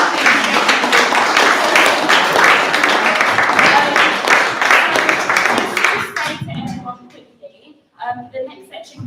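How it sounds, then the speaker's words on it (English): An audience at a hate crime awareness event claps in a sustained, fairly loud round of applause that dies away after about six seconds, leaving scattered talking. "Round of applause, everyone."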